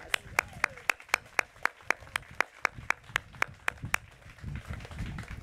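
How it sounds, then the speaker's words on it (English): Steady, evenly spaced claps ring out close by, the sharp handclaps of a few people applauding honor guards and singers, before they loosen into a softer, busier patter near the end. "let's give them another round of applause"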